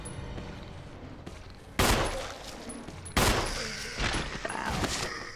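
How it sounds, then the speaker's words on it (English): Gunshots in the Resident Evil HD video game: several loud, sharp shots fired at uneven intervals against a low in-game background, with the last ones landing close together. "That is ridiculous how many shots that takes."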